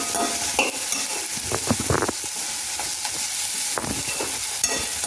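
Eggplant bharit with garlic greens and onion greens is stirred in a hot pan, with a constant close sizzle and repeated scraping spoon strokes in an uneven rhythm.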